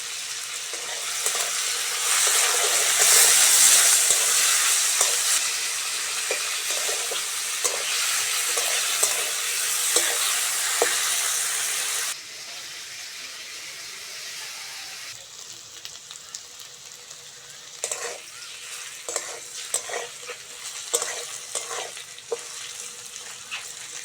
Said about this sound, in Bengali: প্রথমে হলুদ আর লবণ দিয়ে আলুটা ভেজে নেবো।